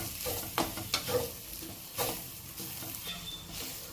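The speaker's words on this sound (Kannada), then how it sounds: "ಈಗ ನಾವು ಈ ಕೊತ್ತಂಬರಿ ಸೊಪ್ಪನ್ನ ಸತ ಇದರಲ್ಲಿ ಹಾಕ್ಕೊಂಡು ಫ್ರೈ ಮಾಡ್ಕೊಳ್ಳೋಣ" Coriander leaves frying in a pan of oil, with a soft steady sizzle broken by a few scraping stirs of a spoon against the pan, close by and fairly quiet.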